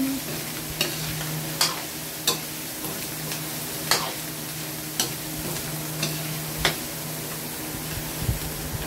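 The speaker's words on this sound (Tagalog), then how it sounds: "Lagay na po natin yung ginayat-gayat na karne, yung laman loob. Tapos halo-haloin lang po natin." Chopped meat and offal for bopis frying in a pan: a steady, close sizzle with regular scraping stir strokes roughly every second.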